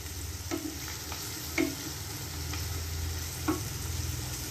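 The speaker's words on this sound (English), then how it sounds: "Stir it well. Okay, let it cook for a bit, yeah, on a medium flame." Mutton masala with shallots stirred in a pan on a medium flame, a steady low sizzle of frying beneath a few soft, separate scrapes of the spoon.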